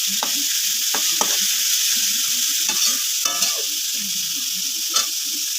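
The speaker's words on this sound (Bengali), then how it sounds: "এখন এগুলোকে আমি সুন্দর করে আগে ভাজবো" Mixed winter vegetables sizzle steadily in hot oil in a pan while a spatula stirs and scrapes them, with several sharp knocks against the pan over a constant frying hiss; no one talks.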